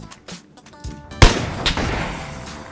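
An M24 sniper rifle fires in PUBG on the Sanhok map: one sharp, loud shot with a rolling tail, then a fainter second crack against quiet game ambience.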